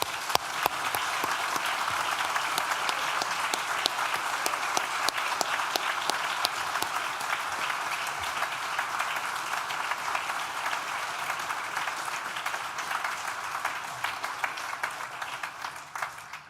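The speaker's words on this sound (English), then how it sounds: "I think it's time for one more big round of applause" Sustained audience applause fills a graduation ceremony hall at an institute of technology, steady and dense with many hands clapping at an even level for the whole stretch, fading slightly at the end.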